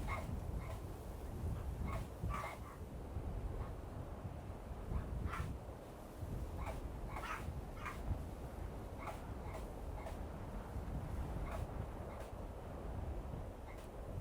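Several dogs barking in short bursts at a moderate distance, scattered through a long stretch over a steady rumble of wind noise on the microphone.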